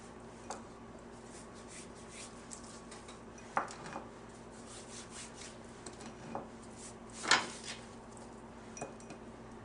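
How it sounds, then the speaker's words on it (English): Pork butt being rubbed by hand with a dry cumin, salt and pepper seasoning, a soft steady scraping with a few sharper knocks and clinks, close and alone with no talking. "I'm going to rub my pork with this"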